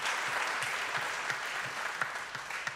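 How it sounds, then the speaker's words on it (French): Audience applause at a conference event in a hall, a steady wash of many hands clapping that fills the whole clip, with no talking over it. "vous pouvez saluer de vos applaudissements si vous le souhaitez"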